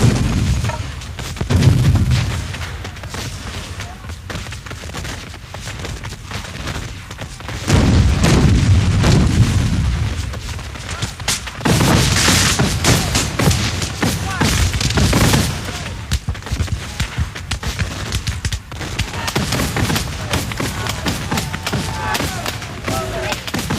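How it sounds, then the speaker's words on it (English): Confederate artillery cannon fire at a re-enactment of the Civil War Battle of Manassas (Bull Run), with repeated heavy booms and rolling rumbles among scattered musket-like cracks, loud and sustained, with a voice speaking over parts. "As Beauregard shifted his troops, the Confederate artillery pounded the Federals"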